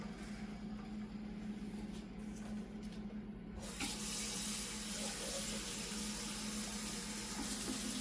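Water pours steadily from a tap into a cooking pot being filled to boil palabok rice noodles for a Filipino snack, a broad continuous rush that grows louder and fuller after a few seconds, with no talk.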